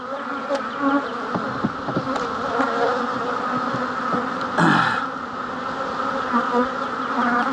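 Honey bees swarming around an opened hive during a mid-April hive reversal, a dense, loud, continuous buzz close by with individual bees droning past, and a brief rustle partway through.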